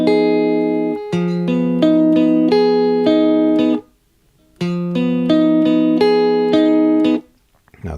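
Guitar plays an F half-diminished chord as an arpeggiated pattern of clear plucked notes, played twice in a row with a short silence between, close and alone.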